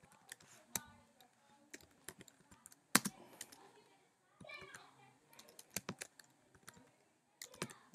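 Quick, irregular clicks of typing on a computer keyboard, close up, with short pauses between bursts and faint background noise.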